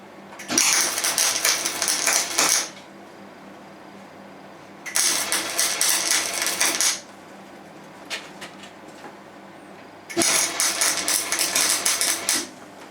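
A MIG welder lays tack welds on a Triumph bash plate in three separate bursts of crackling buzz, each lasting about two seconds, with quiet gaps and faint clicks between them.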